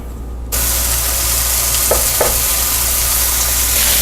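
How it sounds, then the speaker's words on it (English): Loud, steady sizzling of beef burger patties frying in a hot cast iron skillet over medium-high heat, starting abruptly and continuing as a dense crackle, with a couple of faint clicks. "the burgers are sizzling"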